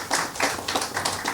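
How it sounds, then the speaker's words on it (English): An audience gives a round of applause for Diana Francis, a dense wash of many hands clapping at a steady, moderate level with no talk over it. "we want you all to give her a round of applause, please"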